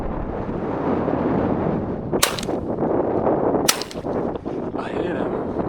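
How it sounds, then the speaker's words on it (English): Shotgun blasts, a .410 fired while hunting pigeons outdoors: two sharp, loud single reports about a second and a half apart, set against steady wind and ambient noise, with faint sounds following. "Should I shoot a tall one?"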